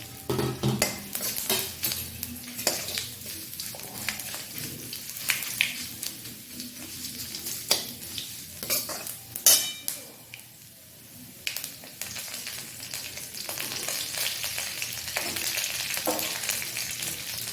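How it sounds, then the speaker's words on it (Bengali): Fenugreek seeds, bay leaf and ginger fry in hot tempering oil for a vegetarian shukto, sizzling steadily close up while a utensil repeatedly scrapes and clinks against the pan. "মেথি তেজপাতা আর আদাটা একটু ভাজা ভাজা হবে"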